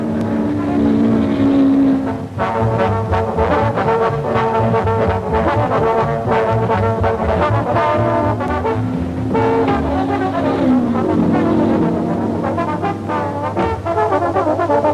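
Vintage sports cars racing down a 1.5 mile straight at Longford, a loud sustained engine roar with revving and shifting pitch as cars pass, continuous throughout with no talking.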